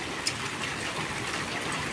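A storm in Marrakech brings heavy rain and hail, heard as a continuous close rushing wash of water, loud and even throughout with no voices.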